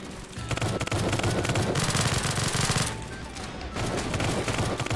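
Rapid automatic gunfire from a heavy gun in a Roblox Squid Game match, dense bursts of shots rattling continuously with a brief lull midway.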